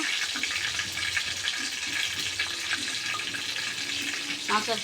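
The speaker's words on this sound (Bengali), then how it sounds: "মরিচটা আমরা আগে ভাজে নেব। দেখুন এরপর আমরা দিয়ে দিলাম তেজপাতা" Dried red chili and bay leaf frying in hot oil in a home kitchen, a steady close sizzle and crackle continuing throughout, with a brief clink near the end.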